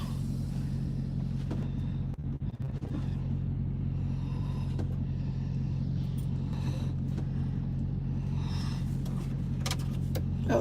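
A truck engine on an incline runs with a steady, loud low rumble throughout, a brief stutter early on as it catches, then idles continuously with faint clicks and rattles on top.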